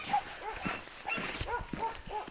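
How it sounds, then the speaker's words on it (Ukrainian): Dogs bark in a quiet village in the early morning, several sharp barks spaced irregularly at a moderate distance, with no voices over them. "Ось село ще тишина. Тільки собаки гавкають."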